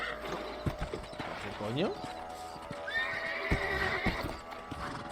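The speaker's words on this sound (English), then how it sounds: "Este caballo está tonto" Horse neighing with a rising whinny and steady hoof clip-clop in the Western video game Red Dead Redemption, layered with game dialogue and a voice speaking Spanish over the scene.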